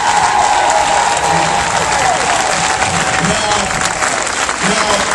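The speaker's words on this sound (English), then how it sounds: "let's give them a round of applause for showing up" A crowd at a rally gives a round of dense, loud applause that runs unbroken the whole way through, with scattered voices calling out among the clapping.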